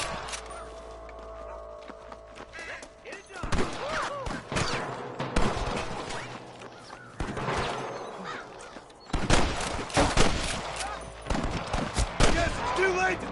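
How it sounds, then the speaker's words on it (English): Gunfire in the Western video game Red Dead Redemption, bursts of sharp shots in clusters mixed with game sound and voices talking, loud and irregular across the scene. "I can hear more gunshots."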